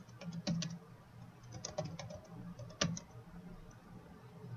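Keystrokes on a computer keyboard entering a place name into a map search box, a quiet scattered run of clicks with short bursts and pauses, close up over a low room hum.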